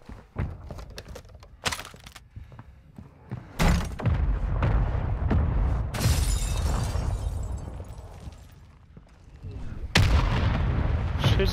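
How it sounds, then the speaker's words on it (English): Mortar strike explosions in the Warzone video game: a series of loud, heavy booms and crashing blasts, some sharp and others rumbling and sustained, landing close and in irregular succession. "there's a guy trying to get me with this mortar strike"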